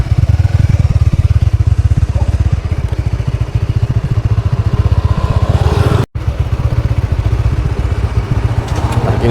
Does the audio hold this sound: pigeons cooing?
no